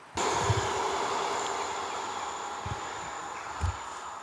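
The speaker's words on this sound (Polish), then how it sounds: "Przed chwilą właśnie przyjeżdżał pociąg." A train rolls past steadily near a bridge, a continuous broad rumbling hiss with a faint high whine and a few low thumps, moderately loud and unbroken for several seconds.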